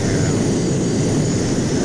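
JAS 39C Gripen jet in a flight simulator game, a loud, constant, broadband engine roar and hiss, with no speech heard.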